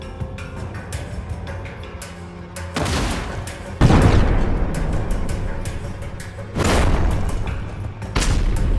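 GBU-39 bombs striking Russian positions in Tyotkino village, Kursk region: a string of heavy, booming explosions at irregular intervals, each a loud broadband blast with rumbling low tails, spaced a second or more apart.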